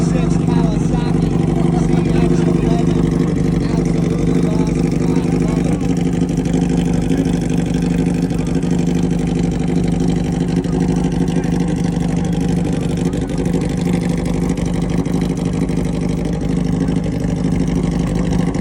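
A 1996 Kawasaki ZX1100 motorcycle engine runs steadily and loudly close by for the whole stretch, a constant rumbling drone with little change in pitch.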